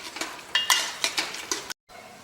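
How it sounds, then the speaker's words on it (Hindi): Onions and ginger fry in a pan, a close sizzling hiss punctuated by several scraping stirs before cutting off abruptly. "अब इसको बढ़िया प्याज को पकाएंगे हम और बिल्कुल गुलाबी कर लेंगे।"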